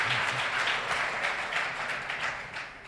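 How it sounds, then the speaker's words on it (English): Audience at a tourism business conference breaks into applause, a dense, even patter of many hands clapping at moderate distance for a few seconds. "I think the applause is an indication that the industry recognizes their challenge."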